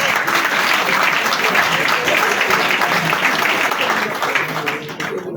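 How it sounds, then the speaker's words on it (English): Dense, steady audience applause fills a hall during a Sierra Leone Parliament staff cyber security awareness session, loud and continuous throughout before easing slightly near the end. "I think he deserves another round of applause."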